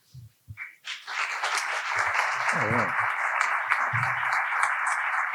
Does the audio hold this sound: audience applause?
yes